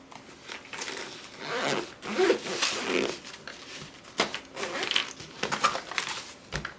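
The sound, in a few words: zipping up a travel art bag for watercolor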